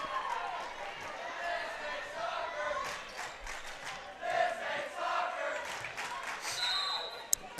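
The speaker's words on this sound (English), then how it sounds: "Clever and cunning cheer saying this isn't soccer by our West Side student section." Student section crowd cheering at a high school volleyball game in a gym, a sustained chant of many voices mixed with shoe squeaks, thumps and ball sounds, steady and fairly loud throughout.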